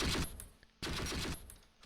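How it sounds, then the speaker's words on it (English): Gunfire in the World War II tactics game Close Combat Panthers in the Fog, two loud bursts of rapid automatic fire, close and harsh, separated by a brief lull. "I think they just returned fire."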